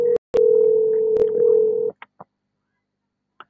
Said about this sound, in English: So I'm quite sure you heard that ringing audio there.